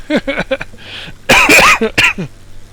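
A person coughs repeatedly during a live flight-simulator stream, with short harsh bursts early on and two louder, heavier coughing fits near the end, heard close and alone without talk.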